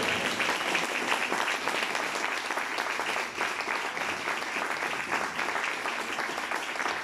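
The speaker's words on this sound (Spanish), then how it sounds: "Demos un aplauso al Señor en esta hora." Congregation applauding in a church during a sermon, a steady dense wash of clapping that holds evenly throughout with no voices over it.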